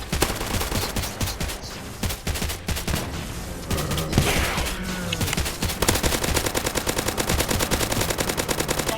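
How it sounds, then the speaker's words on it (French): Sustained machine gun fire in a video game, rapid continuous bursts with brief gaps, loud and close throughout with no talking. "La plupart des armes dans le jeu, c'est des mitrailleuses."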